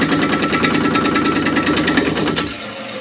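Water rushing back into a dual flush toilet after the supply is turned on, a loud, close, steady gushing roar with a fluttering pulse that drops away at the end.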